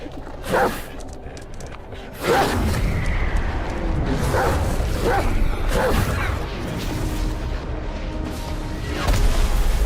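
A dog barks in the action video game Black Myth Wukong, a few sharp bursts mixed into loud, booming game effects and whooshes throughout.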